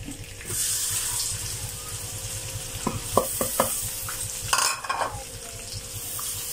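Garlic sautés in melted dairy cream butter in a pan, a steady close sizzle with scraping stirs and a few sharp clicks and clatters of the utensil against the pan.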